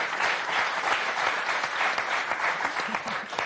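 Studio audience applause on a French TV word game show, steady dense clapping filling the whole stretch, loud and close with no voices over it.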